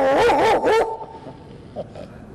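A young woman imitates a big dog with her voice, giving a few loud harmonic bark-like yelps in quick succession, then trailing off into quieter background murmur.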